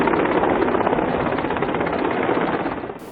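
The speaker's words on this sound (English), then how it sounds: "Helicopters showering petals on the world's tallest statue, the Statue of Unity." Helicopters fly over the towering Statue of Unity while showering petals, their rotors giving a steady, loud chopping drone that stays constant throughout with no voices.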